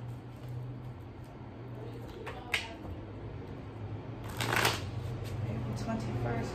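A deck of tarot cards is shuffled close by, with crisp riffling bursts and a louder flurry midway over a low steady hum, brief clicks scattered between.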